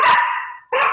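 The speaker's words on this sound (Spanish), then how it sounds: "Mi perrito está ladrando" A small dog barks sharply twice in quick succession, close and loud, with a brief gap between the yaps and no talking over it.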